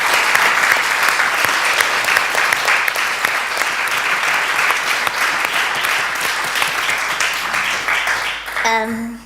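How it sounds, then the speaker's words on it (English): An audience at a Berlin evening event breaks into sustained, dense applause that stays loud and steady for several seconds before tapering as a voice begins. "I want you to applaud her because Gomolemo hasn't slept today"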